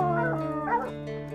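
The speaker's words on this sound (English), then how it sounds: "When I hear the dog sounding off" A hunting dog on a mountain lion trail gives one drawn-out, howling bay, close and clear, with voiced rises and falls lasting over a second.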